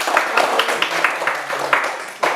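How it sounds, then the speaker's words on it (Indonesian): Classroom children clap together for a classmate, a brisk burst of many small hands that runs steadily throughout, with a teacher's voice talking over it. "Kasih tepuk tangan dulu temannya"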